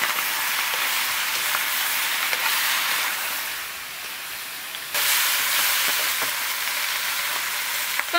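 Chicken pieces stir-frying in a wok with red chili oil, Sichuan peppercorns, star anise, dried chilies, scallion, ginger, cinnamon and bay leaves: a steady, loud sizzle and hiss with occasional clinks of stirring, briefly softening before surging again.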